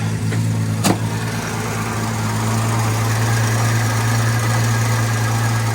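A 1975 Triumph TR6 engine idling in neutral inside a garage, a steady low rumble with constant vibration and a brief click near the start, with no talk over it.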